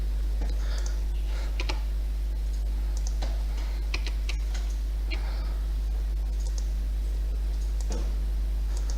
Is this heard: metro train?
no